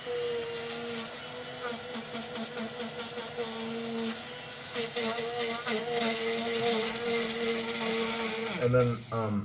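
A handheld power tool whines steadily while sanding a Bat'leth prop smooth, a high buzzing tone with wavering pitch that winds down at the end, while people talk over it.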